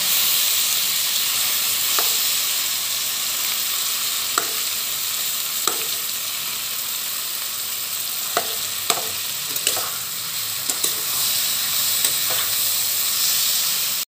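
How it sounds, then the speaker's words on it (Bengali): Ripe tamarind stirred in a pan while cooking a raw mango pickle, with a steady sizzling hiss and a few soft scraping taps at intervals, no talk. "অ্যাড করে দিচ্ছি বেশ কিছুটা পাকা তেঁতুল। এটাকে একটু নাড়াচাড়া করে নেব।"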